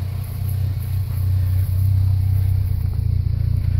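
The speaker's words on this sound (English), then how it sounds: "Nice mellow exhaust. It has a newer exhaust on it." The newer exhaust on a 1980 VW Rabbit Convertible gives off a mellow, steady low rumble close by, swelling slightly midway and then pulsing evenly.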